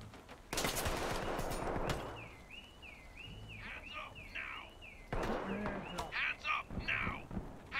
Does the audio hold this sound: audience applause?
no